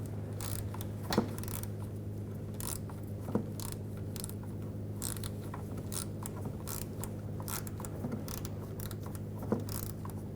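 A ratchet with a T30 socket works a fan assembly screw loose on a 2011-2018 Volkswagen Jetta radiator and condenser fan, giving soft repeated clicks with a few sharper metallic ticks over a low steady hum.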